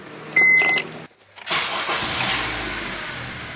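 A 2006-2011 Honda Civic with a 1.8 L engine sounds a short chime, then the starter cranks briefly and the engine catches, rising to a steady, close idle.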